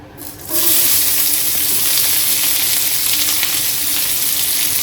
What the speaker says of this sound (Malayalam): ഇനി ഇതിലേക്ക് രണ്ടും മീഡിയം സൈസിലുള്ള ഉള്ളി ചെറുതായി കട്ട് ചെയ്ത് ചേർത്ത് കൊടുക്കുന്നുണ്ട്